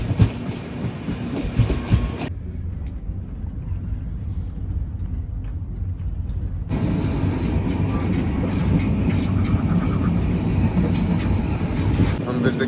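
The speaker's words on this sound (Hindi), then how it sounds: "अब हम लोग जा रहे हैं, अगर तुम्हें दिख रहा होगा तो हम लोग जा रहे हैं लूप लाइन से मेन लाइन पे" A train rolls from a loop line onto the main line, a continuous rumbling ride noise with rhythmic rail clatter, loud and close throughout and briefly muffled partway through.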